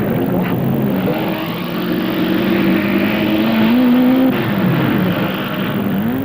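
Sports racing cars lapping in practice at the 1967 BOAC 500 at Brands Hatch, a loud continuous engine roar with a shifting pitch as cars pass, sustained without a break.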